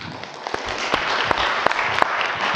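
Scattered applause at a board meeting, a short run of clapping with a few sharp, distinct claps standing out over a steady patter in a room.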